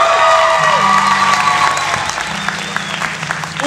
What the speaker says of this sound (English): applause for that band that just got up.